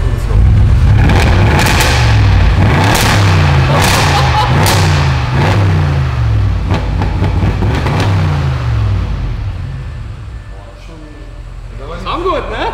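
Audi RS6 with a 560 hp engine giving a few throttle blips, a loud, deep revving roar that rises and falls several times up close before tapering off.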